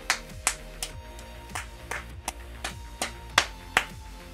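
Hand clapping, about ten sharp, fairly evenly spaced claps standing out clearly over a faint steady tonal background, with no voices.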